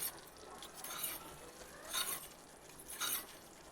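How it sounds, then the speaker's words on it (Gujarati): A spoon stirs cornflour into Manchurian gravy in a pan, with a soft sizzle underneath and three swishing scrapes spaced about a second apart, close and fairly quiet. "કોર્નફ્લોરને આપણે સારી રીતે મિક્સ કરી દેવાનું"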